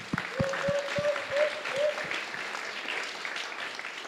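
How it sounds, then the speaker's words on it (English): Brief applause from an audience at a hip-hop political talk, with a few sharp claps and a short cheer-like tone early on, then fading into scattered clapping under the room. "Y'all make some noise for the women"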